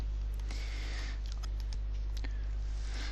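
Clicks from a computer mouse sound as a few sharp, quiet taps spaced irregularly over a steady electrical hum, with no talking.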